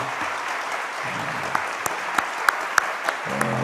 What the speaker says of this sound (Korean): 우리 다시 한번 자리에 앉으실 때까지 박수 한번 할까요?